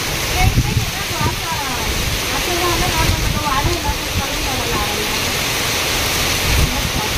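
Heavy monsoon rain pours steadily in a broad, loud hiss during a cyclone in Sinnar, while voices talk over the downpour.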